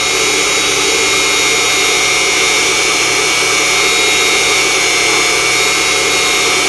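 A Unimat SL1000 mini lathe turns and cuts rebar, giving a loud, constant motor whine with cutting noise that holds steady and unbroken throughout.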